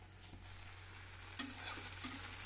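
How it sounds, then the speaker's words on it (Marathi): Okra frying in a pan on the stove gives a soft, steady sizzle, quiet and close, with a couple of faint stirring clicks and no talk. "आता भेंडी चांगली भाजली।"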